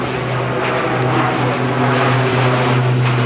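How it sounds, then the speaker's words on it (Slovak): A C-27J Spartan twin-turboprop transport aircraft performs a roll at an air show, its propeller engines droning loudly and steadily with a strong low hum throughout. "A práve teraz nám predvádza lietadlo Spartan svoj povestný výkrut."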